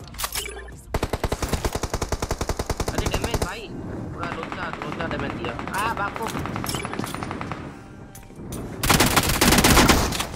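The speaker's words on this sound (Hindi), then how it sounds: "सामने साइड फायरिंग के साउंड आए" Rapid automatic gunfire from the battle royale game BGMI rattles in a long fast burst, followed by scattered shots and game effects, then another loud burst near the end.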